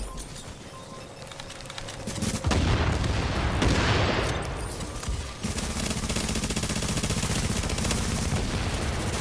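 Combat in a video game: a grenade explosion's broad roaring burst amid steady rapid gunfire that continues loud and rattling afterward.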